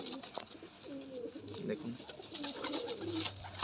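Red Lotan pigeon with feathered feet cooing in low, rolling phrases at a pigeon farm, steady through the clip under a voice speaking nearby.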